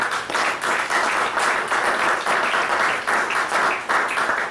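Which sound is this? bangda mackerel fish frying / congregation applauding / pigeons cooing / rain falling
congregation applauding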